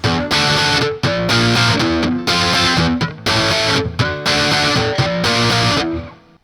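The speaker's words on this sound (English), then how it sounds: "And then add distortion." Electric guitar power chords played through distortion, loud and close: about six chopped riff phrases with short gaps between them, ending in a fading ring.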